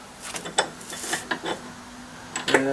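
Screws being driven in while reassembling a salvaged bench vise on a makeshift worktable, close and intermittent, with short ratcheting clicks and squeaks repeated in bursts.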